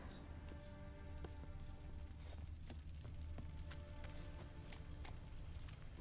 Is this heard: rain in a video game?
yes